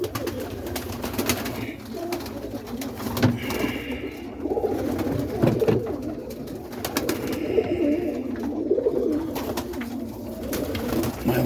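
Roller pigeons coo steadily inside a loft, soft low murmuring calls repeating close by against faint background rustle.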